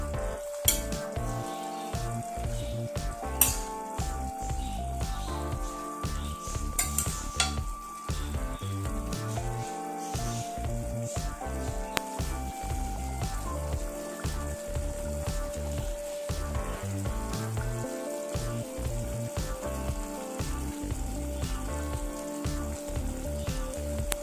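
Chicken pieces for French onion chicken simmer in a thickening sauce, producing a steady, close bubbling sizzle that carries on for the whole stretch under a low droning tone, with no voices.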